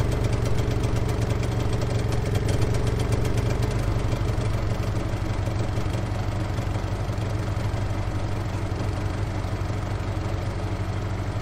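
A Honda EU22i generator idles on petrol after an LPG conversion, a steady, loud, close engine drone with a constant rhythmic chug that holds throughout.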